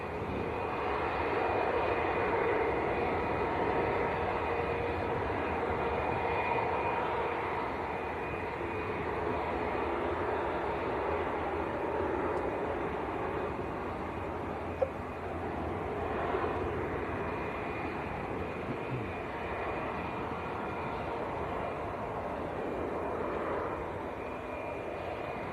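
British Airways airliner departing Manchester Airport for London Heathrow, a sustained moderate jet rumble that swells and eases slowly over a long stretch, somewhat distant, with no voices.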